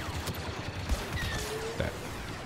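Blaster fire in the Star Wars Battlefront 2 game, resembling a TIE fighter gun, crackles in quick faint bursts amid a busy, noisy battle backdrop.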